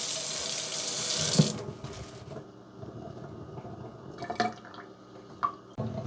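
A kitchen tap runs water over raw chicken wings in a sink, a steady close splash at first that stops, followed by scattered drips and small handling clunks.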